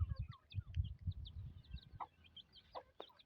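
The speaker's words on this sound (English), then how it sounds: "we are having this kind of chicks and hens around here" Chickens and hens in a home yard in Kenya, with soft low clucks at first and then sharper, higher hen calls scattered through, fairly close and with no talking.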